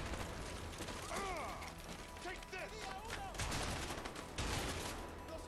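Shotgun blasts and combat clatter in the game A Way Out, a few sharp reports scattered over busy mechanical game noise and music.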